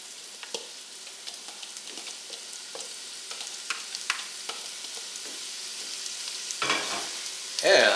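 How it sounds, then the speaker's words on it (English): Diced onion fries in a pot with a steady, close sizzle and crackle, small pops scattered throughout, and a louder burst of stirring and shuffling toward the end. "Then add the large diced onion."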